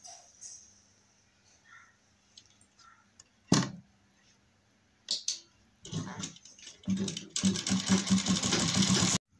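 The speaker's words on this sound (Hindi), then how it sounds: "इसके बाद हम इसमें सिलाई कर देंगे।" A sewing machine stitching a round neckline on a garment, starting with scattered clicks and short bursts, then settling into a loud, fast, rhythmic run of stitching toward the end.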